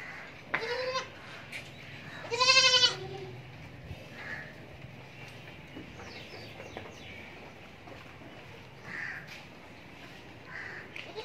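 Goats calling on a farm, a few loud nearby bleats early on followed by fainter, scattered calls over a steady outdoor background.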